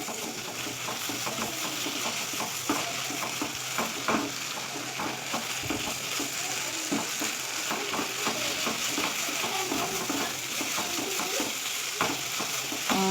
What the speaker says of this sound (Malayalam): അപ്പോൾ നമുക്കിത് ഇഞ്ചി വെളുത്തുള്ളി പേസ്റ്റ് ഇട്ട് കൊടുക്കുന്നുണ്ട്. നമുക്കൊന്ന് വഴറ്റി കൊടുക്കാം.